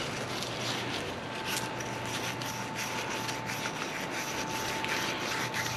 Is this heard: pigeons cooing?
no